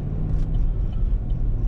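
A car cruises along Interstate 35 near Austin, Texas, giving a steady, loud low engine and road rumble from inside the cabin, with a brief brighter swish early on.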